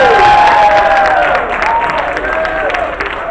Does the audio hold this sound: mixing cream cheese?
no